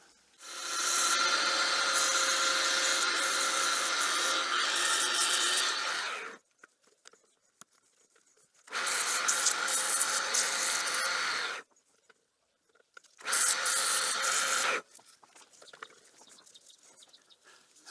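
Sandpaper rubbing on a repaired wooden ball turning jig gives three loud, steady bursts of abrasive scratching, roughly six, three and one and a half seconds long, with quiet gaps between.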